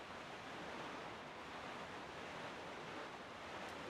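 Ocean waves in The Legend of Zelda: The Wind Waker form a faint, even hiss of surf, broad and unbroken with no distinct crashes and no voices.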